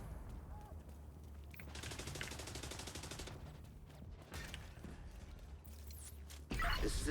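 Rapid automatic gunfire from a Mark 46 machine gun in a video game, sustained bursts over a steady low rumble, with a louder burst of noise closing the stretch.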